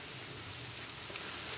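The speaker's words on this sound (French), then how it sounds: "Donc c'est reparti pour la pluie." Steady rain falls continuously outdoors near a bar on a summer day, a dense even hiss with scattered faint drop taps, heard alone without talking.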